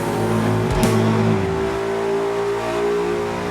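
A 2014 Ford Mustang GT with Stage 3 modifications revs hard on a chassis dyno, one loud sustained pull with a sharp blip early on, the engine note droning steadily throughout with no talking.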